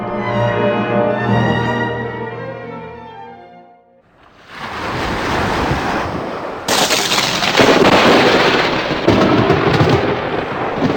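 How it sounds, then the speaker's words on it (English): A storm sound effect in a children's fairy tale about a ship breaking apart, with a sustained roar of wind and rain and rumbling thunder following a fading musical passage. "Suddenly, a big storm came up and the ship was broken down."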